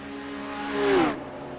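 A BMW GT3 race car accelerating at Mount Panorama swells briefly with a rising engine whine and rushes past, then fades quickly.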